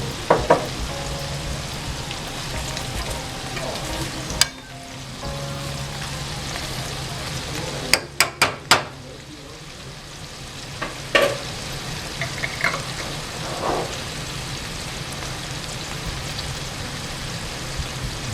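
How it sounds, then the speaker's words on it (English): Steady loud sizzling of shrimp frying in a pan for shrimp scampi, with a few clanks and scrapes from a utensil partway through. "You hear it sizzling."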